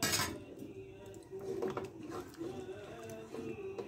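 A spoon scrapes and clinks against a pot while thick lentil soup is stirred, soft intermittent knocks and swishes close by.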